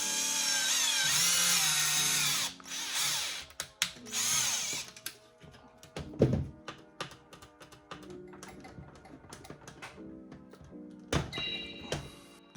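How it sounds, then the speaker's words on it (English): A power drill drilling a hole into a Neutrona Wand, whirring in several short bursts, its motor pitch rising and falling, with brief pauses and a few knocks and clunks between runs. "you can take a drill to drill a hole instead"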